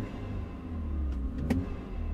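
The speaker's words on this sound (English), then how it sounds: "I am running a M Performance exhaust." A BMW F30 sedan fitted with an M Performance exhaust and an engine intake idles with a low, steady rumble. A brief mechanical click and whir break in partway through, and nobody speaks.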